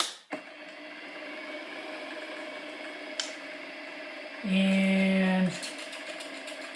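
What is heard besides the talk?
metal spinning lathe running with piece locked in place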